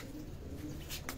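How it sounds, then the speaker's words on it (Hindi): Soft cooing from high-flying pigeons kept by a fancier on a rooftop, low and faint against steady background hiss, with a couple of brief brighter flutters or calls near the end. "बहुत अच्छे कबूतर है ये बहुत परवाजी कबूतर है"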